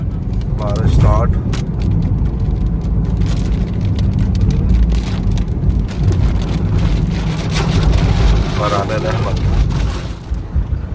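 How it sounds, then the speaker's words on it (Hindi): Rain starting to fall around a moving car on a rural road in Punjab, a dense steady patter and hiss over constant road rumble, with voices talking inside the car. "बारिश स्टार्ट।"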